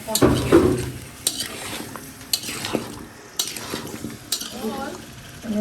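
Potatoes tipped into a pan of sizzling ginger, garlic and turmeric paste, uneven sizzling with clattering utensil scrapes and stirring knocks close by, a few voices faintly underneath.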